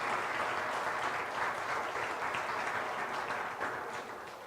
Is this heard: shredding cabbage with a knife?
no